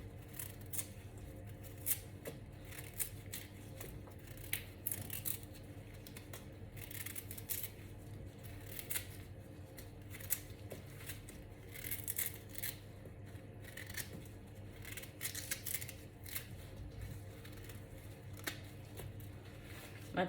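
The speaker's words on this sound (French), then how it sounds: "Voilà, le gingembre frais. Nous allons découper ça en petits morceaux." Fresh ginger is cut into small pieces with a knife, making a run of quiet, repeated chopping and scraping strokes over a low background hum.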